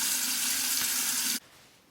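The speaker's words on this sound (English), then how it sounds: "then rinse it off" Tap water runs loudly and steadily into a sink, used to rinse the face after a shave, then cuts off abruptly, leaving only a faint hiss.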